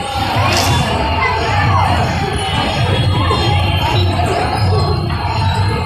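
A dense crowd at a village fair festival, many voices shouting and cheering together in a loud continuous roar with children's yells rising above it.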